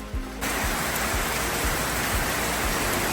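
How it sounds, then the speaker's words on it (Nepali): Heavy rain pours down at Tubu Danda on a trek near Pokhara, a dense, loud, continuous hiss that starts abruptly and holds steady, with occasional low thumps and no voices. "पानी चाहिँ ठुलो परिरहेको छ टुबु डाँडामा"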